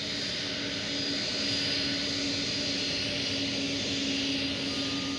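A jet airliner taxis slowly toward its parking stand at Roissy airport, a steady broadband engine roar with a faint whine holding at constant loudness throughout, no voices.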